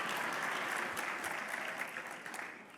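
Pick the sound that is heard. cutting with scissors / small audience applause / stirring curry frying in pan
small audience applause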